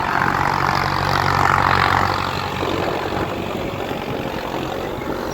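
A New Holland 3630 tractor's diesel engine runs with a steady, rumbling drone throughout, loud and close with a broad noisy hum and no speech.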